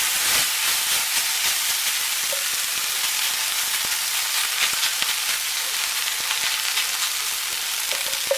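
Vegetable fried rice with a dash of toasted sesame oil is stir-fried in a hot pan, giving a loud, continuous hissing sizzle with faint scrapes and crackles throughout.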